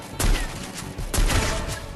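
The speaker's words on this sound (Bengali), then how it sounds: "আলিফ স্টিল একটা করে স্নাইপার শট দিয়ে যাচ্ছে" Two punchy sniper rifle shots in the mobile battle royale game Free Fire, spaced about a second apart, each with a short booming tail.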